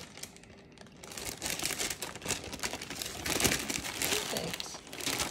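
Parchment paper is folded and crinkled while game day food is prepared, giving a dense, continuous crackling rustle that swells after the first second and stays close and fairly loud.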